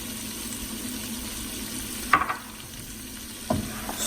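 Garlic fries in butter in a pan with a soft continuous sizzle, broken by two brief scraping stirs near the middle and end.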